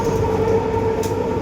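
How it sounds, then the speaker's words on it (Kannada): A Bengaluru Metro train runs with a steady, loud rumble and whine, heard from close by, with no talking. "ಬೆಂಗಳೂರು ಮೆಟ್ರೋ"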